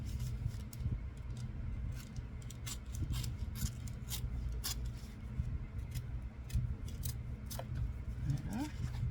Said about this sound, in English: So let me cut this open.